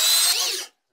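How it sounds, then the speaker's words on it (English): A power drill whines loudly for well under a second as it bites into a metal rivet on an Apple Power Mac G4 rear I/O panel, then cuts off abruptly into silence. "the easiest was to drill from the side all these 10 rivets"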